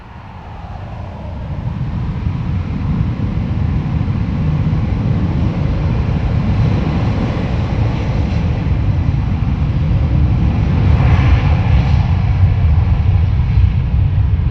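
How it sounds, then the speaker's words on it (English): Ryanair airliner departing Dublin Airport, its jet engines building from a distant rumble into a loud, sustained broadband roar that holds steady throughout. "Ryanair is off to Turkey, Bodrum."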